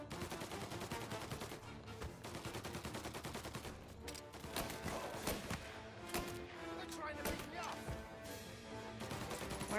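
Dense, continuous video game gunfire in Mafia Definitive Edition fills the scene, rapid overlapping shots and bursts with heavy thuds, loud and relentless throughout.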